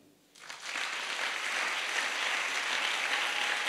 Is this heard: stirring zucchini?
no